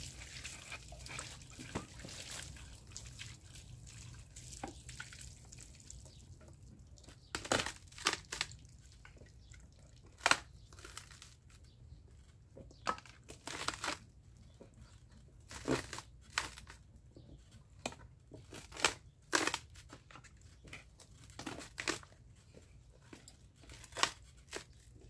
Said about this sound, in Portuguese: Agora também já lavei a cana, já dei uma raspada nela